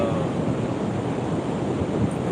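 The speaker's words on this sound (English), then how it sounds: "Just look at the waves, how calm they coming" Calm ocean waves wash steadily in broadband surf noise with a little wind across the microphone, an even continuous wash with no distinct breaks and no voices.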